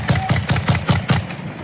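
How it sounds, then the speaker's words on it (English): Rapid gunfire from armed security guards, about six sharp shots in a quick regular burst, loud and close, with no talking. "armed American security guards opening fire"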